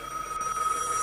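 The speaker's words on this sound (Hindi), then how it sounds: "फोन आ रहा है क्या?" A telephone rings inside a gas station simulation video game as a steady high electronic tone, fairly loud and alone, with no talk.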